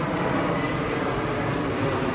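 A fixed-wing airplane flies overhead, its engine a steady, broad roar that holds at an even, fairly loud level throughout with no voices over it.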